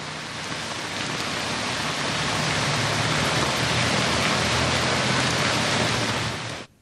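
Heavy monsoon rain falls overnight across Chikkamagaluru district in Karnataka, a dense, steady roar of downpour that holds loud and unbroken for about seven seconds before cutting off abruptly.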